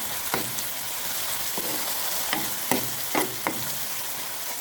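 Potatoes and seasonings frying together in a hot pot for aloo pies, a steady hiss of frying with several sharp stirring clacks and scrapes of a utensil against the pot, close and alone.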